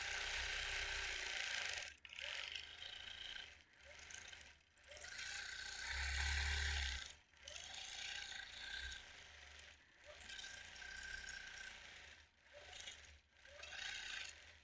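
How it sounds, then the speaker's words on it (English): Sewing machine needle punching through thick, unyielding yellow fabric during free motion quilting, close rhythmic rasping bursts of stitching separated by short pauses. "I don't know if you can hear in my needle. I can. It's just puncturing through this yellow, whatever it is."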